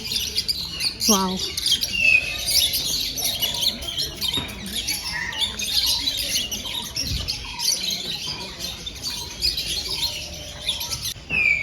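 Mynas and parrots squawk and chirp in a busy zoo aviary, forming a dense, close chorus of overlapping calls throughout, with a brief spoken exclamation near the start.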